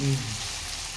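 Chopped onions frying in a pan for puffed rice upma, a short burst of dense, close sizzling that holds steady for about a second with a faint low hum at the start.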